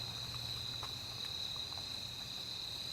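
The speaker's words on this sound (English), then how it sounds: "you can probably hear that from the crickets" Crickets in an evening garden in September, a steady high-pitched insect drone holding throughout with no voices.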